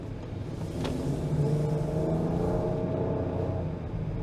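A 2022 Lincoln Aviator Reserve accelerates from inside the cabin, its engine note artificially boosted through the car's speakers, a smooth rising hum and rumble that swells and holds steady with a faint road roar beneath.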